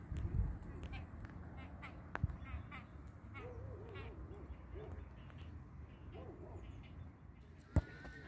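Ducks quacking at an outdoor family picnic, several scattered calls of moderate distance mixed with faint background chatter and a couple of sharp knocks.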